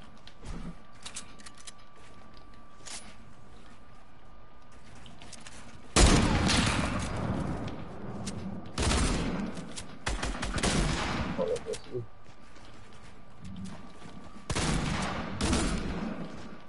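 Bursts of gunfire from a Fortnite match, loud volleys at about six, nine to twelve and fifteen seconds separated by quieter game ambience, with no talk over them.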